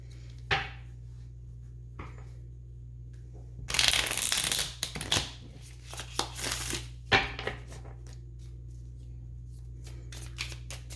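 Bursts of riffling card shuffling, one long flurry and several shorter ones, close up over a steady low hum, with no talking.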